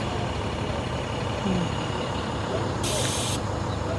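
A truck passes on a road during a January snowstorm, its engine rumbling steadily under slushy road noise, then a sharp, loud hiss of air brakes bursts out for about half a second near the end.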